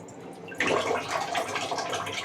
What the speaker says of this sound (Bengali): সবজি কেটে হাত ধোবো।